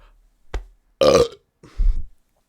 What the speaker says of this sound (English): I keep burping a lot this episode.